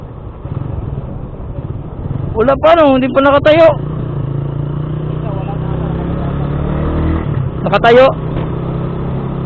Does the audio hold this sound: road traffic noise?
yes